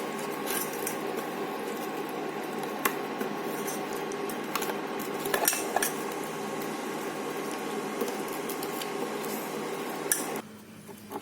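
Melted chocolate and four tablespoons of butter stirred together in a bowl for a choco lava cake, a steady close scraping and clinking of utensil against bowl that runs continuously before stopping near the end.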